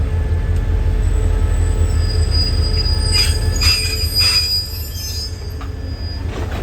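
Thai State Railway passenger and baggage cars roll slowly through a morning rail yard near Bangkok, wheels squealing in long sustained tones over a steady loud rumble that eases slightly toward the end.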